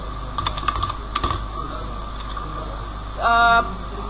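Clicky computer keyboard typing in short bursts of keystrokes under a steady electrical hum, with a brief buzzing tone near the end.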